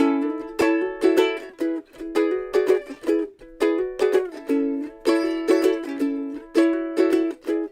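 Ukulele strums chords in a bouncy, steady rhythm, bright plucked strings ringing with clear repeated strokes and no voice.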